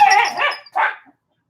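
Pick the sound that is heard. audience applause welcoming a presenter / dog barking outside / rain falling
dog barking outside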